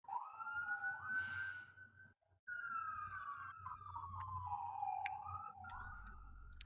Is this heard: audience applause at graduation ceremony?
no